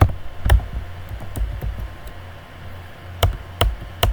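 Fingers type on a computer keyboard, a run of close, crisp key clicks in uneven bursts with brief pauses between them, with no talking over the clicks.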